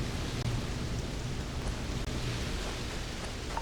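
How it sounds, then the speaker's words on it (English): Freezing rain falling on a desert planet in Starfield, a steady broadband hiss of rain that holds constant and fairly loud throughout, with no talk. "And it's got freezing rain"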